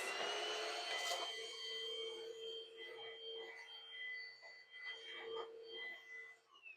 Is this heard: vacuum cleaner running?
yes